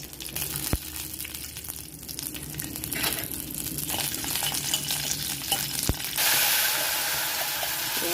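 Curry leaves and fenugreek seeds frying in hot oil for a fish curry, a close, continuous crackling sizzle with stirring scrapes, growing a little brighter and louder toward the end; no talking.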